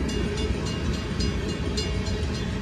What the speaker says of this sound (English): so it's a big train.